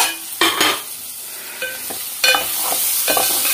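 Onions for a spicy egg and drumstick curry fry in a small pan, with a constant close sizzle broken by several sharp scraping strokes of a spatula against the metal.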